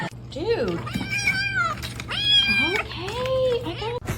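A cat meows repeatedly in long, drawn-out, wailing cries while its head is stuck in a chair, with a steady hum underneath and people speaking nearby.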